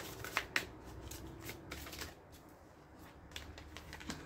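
Tarot cards are shuffled and drawn close by, a couple of crisp snaps followed by soft riffling and sliding card sounds in a quiet room, with no talking.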